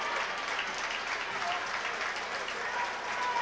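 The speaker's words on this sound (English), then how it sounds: "But now you hear applause." Steady applause from the stands at a high school basketball game between Uniontown and Trinity, a dense continuous clapping wash holding level throughout with no voices standing out.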